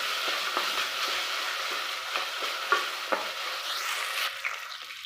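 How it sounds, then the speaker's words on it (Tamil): Chopped tomatoes sauté in a pan for varagu (kodo millet) tomato rice. A steady close sizzle runs throughout, broken by a few sharp spoon scrapes and taps as they are stirred. "குட்டி குட்டியாக ஒரு 2 தக்காளி, அதையும் இதிலே சேர்த்து வதக்கிக்கலாம்."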